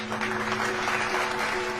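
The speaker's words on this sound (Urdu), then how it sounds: "اس بار ہنسنے کے بجائے شاگردوں نے تالیاں بجائیں۔" A group of students claps together in applause, a dense, steady patter of many hands held at an even level from start to finish.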